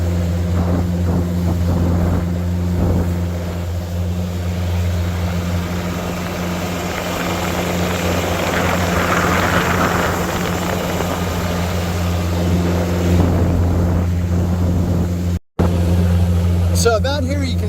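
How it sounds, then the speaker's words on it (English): A boat cruising across the open sea toward Koh Sriboya, its engine droning steadily with wind and water rush throughout. Someone talks over the noise. "we're just cruising across."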